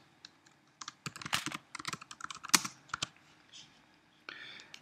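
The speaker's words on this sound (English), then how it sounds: "Typing some text." Typing on a computer keyboard while adding a portfolio entry in a web layout builder: irregular bursts of close key clicks with short pauses between them, no talking.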